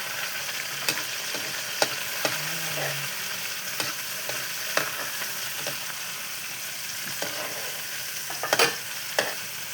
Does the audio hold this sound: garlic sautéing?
yes